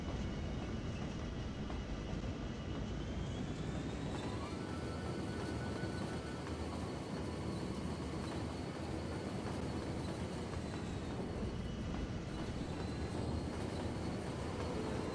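Train pulling into the main station in the city-building game Cities: Skylines: a steady, low rumbling rail noise with faint tonal whines drifting in pitch, quiet and continuous for about fifteen seconds, no talk.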